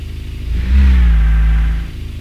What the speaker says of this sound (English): Start the car again.